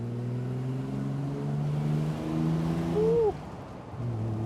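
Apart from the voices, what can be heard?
Triumph TR6 sports car exhaust note while driving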